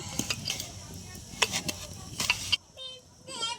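Semolina, rice flour and mashed banana being stirred together by hand in a bowl, soft wet scraping and light clinks in bursts, then the mixing stops and quiet voices are heard at the end.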